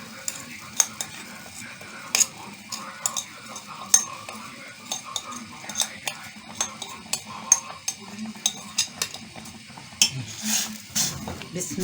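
Dried molokhia, mixed like a dough, goes into a pan and is stirred, with repeated sharp spoon clinks against the metal over a soft sizzle, close and rhythmic.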